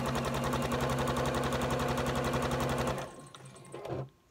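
A sewing machine stitching patchwork blocks runs in a fast, steady mechanical rattle for about three seconds, close and fairly quiet, then stops, leaving faint handling noises.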